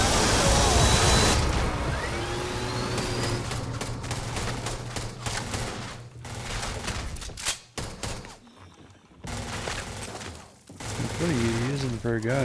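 Gunfire in the sci-fi video game Starfield, with dense bursts of shots and impacts amid loud game noise, thinning out in the middle before building again, while voices talk over it.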